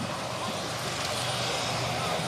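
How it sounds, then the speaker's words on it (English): B-25 bomber of the Royal Netherlands Air Force historic flight taking off: a loud, steady piston-engine roar filling the air without a break, with a voice speaking over it. "Nose up, wheels up, she's airborne, the B25."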